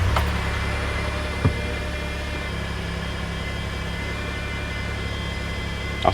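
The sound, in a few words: car engine starting and idling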